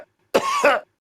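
Two quick coughs in close succession, near and fairly loud, with no talking around them.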